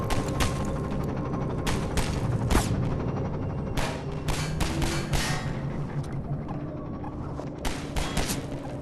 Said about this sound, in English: Got the gunfire below.